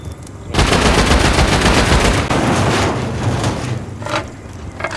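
Rapid bursts of automatic gunfire in a multiplayer survival shooter raid, loud and near, running continuously with dense overlapping shots and a few sharper single cracks toward the end, no talk.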